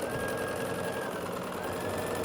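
A sewing machine backstitches along a baby quilt border with a steady, close mechanical whir and rapid needle chatter that runs without a break.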